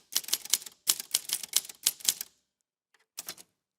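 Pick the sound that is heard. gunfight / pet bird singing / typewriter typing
typewriter typing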